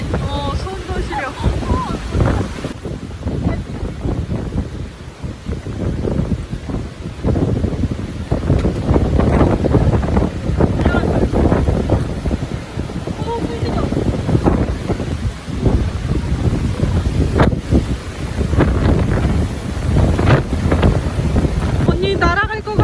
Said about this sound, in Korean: 바람 봐.